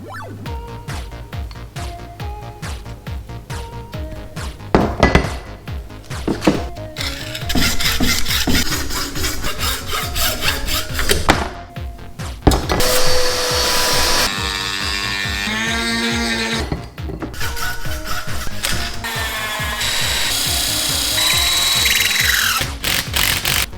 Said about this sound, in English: Round the edges off, bolt it on.